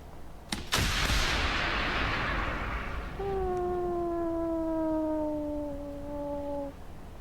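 Gunfire and a large blast in the Roblox tank combat game MTC: a sharp loud burst opens, followed by a fading rumble and long, sliding whistling tones that trail off over several seconds, with no talking.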